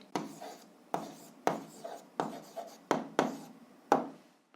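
A pen writes out a seventh-grade algebra solution on paper, making a series of close scratchy strokes in short rhythmic bursts, about eight of them, each tapering off.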